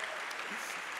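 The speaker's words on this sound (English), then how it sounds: "Let's clap for them as well." A concert hall audience applauds percussion students at a live performance, a brief, steady wash of many hands clapping at moderate loudness with no distinct voices.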